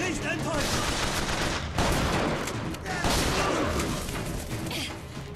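Dense bursts of weapon fire in the shooter game Bioshock Infinite, loud sustained volleys with crashing impacts packed close together, nearly continuous across the stretch.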